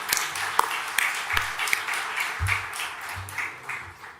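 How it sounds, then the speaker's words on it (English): Applause from a startup festival session audience, a steady wash of clapping with a few sharper individual claps, fairly close and moderately loud throughout. "Why don't we have one more round of applause to start this session with high energy."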